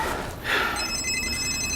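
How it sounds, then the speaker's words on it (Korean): A phone rings in a night film scene on a wooded hill behind an apartment block, a steady electronic trill that starts after a brief rustle, fairly loud and with no talking. "이때 현수에게 전화가 옵니다"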